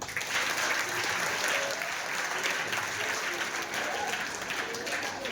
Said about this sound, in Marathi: सगळ्यासाठी टाळ्या वाजवा